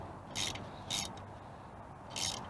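A ratchet wrench works on the engine studs of a 1971 Honda CB350, giving three short bursts of crisp ratcheting clicks separated by pauses, quiet and close, with no talk.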